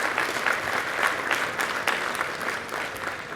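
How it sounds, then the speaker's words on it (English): Delegates at a union convention applaud during the president's address, a continuous, dense round of clapping at steady volume throughout. "The applause is great, absolutely."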